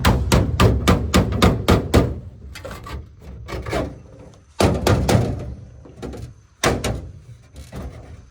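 A rapid series of loud metallic-wooden bangs from hitting the side of a saw during a ladder bar correction, followed by scattered heavier knocks with gaps between them, close and harsh with no talking.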